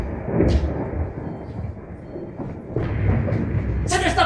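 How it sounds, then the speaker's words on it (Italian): A staged thunder effect rumbles low and long in a theatre comedy, building to a heavier roll near the end, while actors speak over it. "questo era un tuono!"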